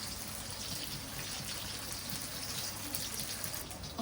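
Water runs into a pot of vegetable soup being cooked at home, a soft continuous pouring and trickling sound that stays fairly quiet and steady, with no talking.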